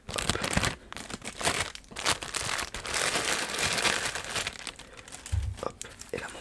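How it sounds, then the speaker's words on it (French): A Seiko Arabic-dial watch being unwrapped from its small paper wrapping, with continuous close, crisp crinkling and rustling that carries steadily throughout with no voice over it. "vous sortez la montre avec le petit papier"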